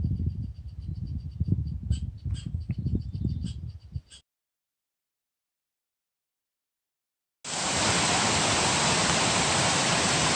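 Mountain creek water rushing just below a trail crossing in the Great Smoky Mountains, a dense steady roar of flowing water that cuts in loudly after a silent gap, following a few seconds of muffled handling noise.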